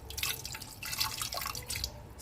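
Water running and dripping into a cooking pot while sambar is prepared with tomatoes in a home kitchen, a close, steady trickle with small splashy drips throughout and no talking.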